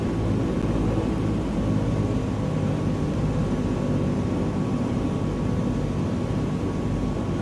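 A propeller aircraft engine in Microsoft Flight Simulator 2020 drones as a constant loud broadband roar with a faint steady hum, heard alone without pause during a flight from Gibraltar to Malaga.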